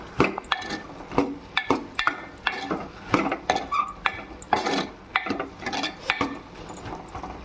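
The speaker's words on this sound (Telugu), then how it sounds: "ఒకసారి మన గెరటి పెట్టి తిప్పుకుంటున్నాండి" A ladle stirring bottle gourd curry in a metal pan, with repeated scraping and clinking strokes in a steady irregular rhythm, close and moderately loud, with no talking.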